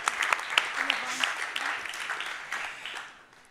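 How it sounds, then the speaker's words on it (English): A panel audience at an EU policy event applauds the Danish presidency with scattered, moderately close claps that build briefly and then taper off, and a voice murmurs faintly underneath. "applaud for the Danish presidency"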